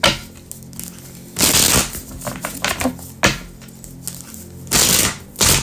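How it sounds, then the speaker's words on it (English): A tarot card deck is shuffled by hand in a few quick bursts, crisp riffling and slapping rattles of cards separated by short pauses and softer handling sounds, close and fairly loud. "Deck is ready. It doesn't want to shuffle."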